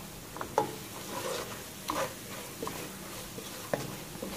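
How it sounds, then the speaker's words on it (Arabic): Rice is toasted with onion in a pan for a Syrian coastal fish sayadieh, with soft scraping stirs and a faint low sizzle, quiet and close, a few spoon knocks standing out. "وهي الرز بدي احمصه كمان شوي مع البصل"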